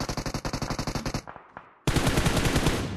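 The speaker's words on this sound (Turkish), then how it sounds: "Bana sıkıyorlar" Automatic gunfire in PUBG Mobile rattles in a rapid, even burst of close, loud shots, breaks off into a few scattered fading cracks, then a dense continuous volley resumes, with no talk.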